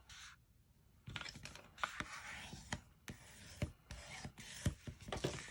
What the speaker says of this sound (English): we are going to go ahead and fold that down the middle here